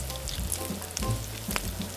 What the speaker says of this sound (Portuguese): Deixe fritar bem esse bacon, até ele caramelizar